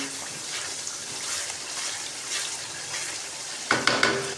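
Chicken being stirred and fried in a handi pot with salt mixed in: a steady soft sizzle with scraping and stirring noises, ending in a few sharp clanks of utensil on metal near the close.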